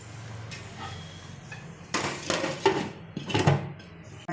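Metal lid set onto a cooking pot of gongura prawn curry in a home kitchen, a few close clattering clinks and knocks of metal on metal, no talk.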